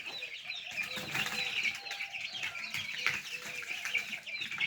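Young male chicks cheep and chatter continuously in a busy flock, with occasional wing flutters, close by and moderately loud.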